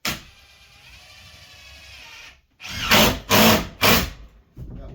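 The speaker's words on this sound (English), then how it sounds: "we'll just put screws in the corners right now" A power drill drives screws into wooden mezzanine stair parts, with three loud, close bursts of whirring in quick succession after a brief quiet moment and a fourth starting at the end.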